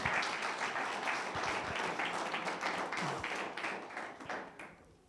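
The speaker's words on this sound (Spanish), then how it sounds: "Dale un aplauso." A church congregation applauds during a sermon, dense steady clapping across the whole span that thins out toward the end.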